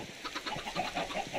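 Chickens in a Minecraft chicken cooker farm, clucking in a quick, steady run of short, close clucks, several birds overlapping, with no other sounds.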